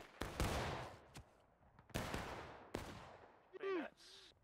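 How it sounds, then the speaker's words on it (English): Musket volleys in the Civil War game War of Rights, several sharp cracks and rolling reports at varied distances, some close and loud, others fainter, with a brief shouted voice near the end. "Alright, keep firing, keep firing."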